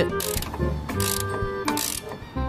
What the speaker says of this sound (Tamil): வண்டியில் உள்ள போல்ட் எல்லாம் ஸ்பேனர் வச்சு கலத்தி தானே பார்த்துருப்பீங்க